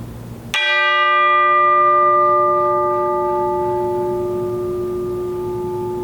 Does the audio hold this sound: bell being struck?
yes